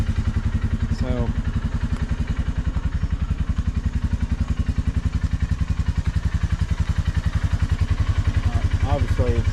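A Polaris Ranger UTV engine idles steadily with a fast, even throb and slight clatter, running close and loud throughout, with brief speech heard over it.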